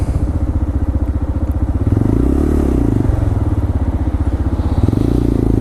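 A motorbike ridden along the road, its engine running loud and steady at close range, with a rising and falling pitch as the rider shifts the throttle, plus some rattling and clatter.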